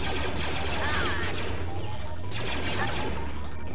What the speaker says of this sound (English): Oddly satisfying gun sounds